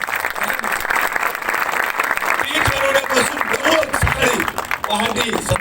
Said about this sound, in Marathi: यांच्या जोरदार टाळ्या करा